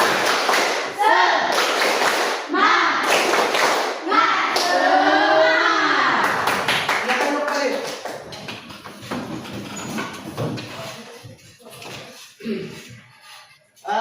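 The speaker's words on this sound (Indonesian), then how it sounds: "Tepuk semangat." A class of students stands and performs a rhythmic spirit clapping routine, bursts of group claps mixed with children chanting and shouting along, fading into scattered voices and a few thumps.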